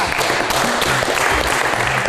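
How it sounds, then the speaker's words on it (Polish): A crowd applauds at a televised MMA show event, a loud, continuous wash of clapping that fills the whole moment without letup. "Dzięki brawa!"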